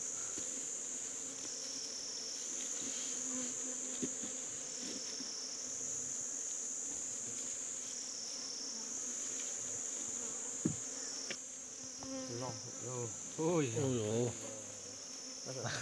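Bee buzzing in front of a person's face, a steady high insect drone held close throughout, with a brief voice and other sounds near the end.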